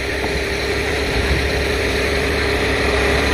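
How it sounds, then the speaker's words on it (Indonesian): A WPJET 500 machine runs at a high-speed railway construction site near a tunnel in Purwakarta, giving a constant, loud mechanical hum and rumble with no breaks. "Mesin WPJET 500."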